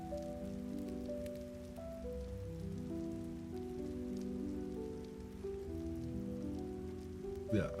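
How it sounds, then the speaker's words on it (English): Steady rain patters in Ark: Survival Ascended under a soft, sustained musical tone, even and moderately quiet throughout. "Even though it's raining."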